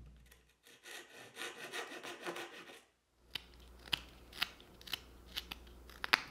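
A hand saw cuts into a laminated walnut and maple knife blank with a steady rasping back-and-forth stroke, then after a short pause come sharper scattered scraping and ticking sounds, all close and fairly quiet.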